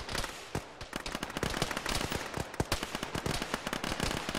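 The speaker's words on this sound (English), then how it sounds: "We got heavy fire west." Heavy gunfire in an Arma video game with the ShackTac group: dense, rapid cracks and bursts overlap without pause, loud and close, with no voices over them.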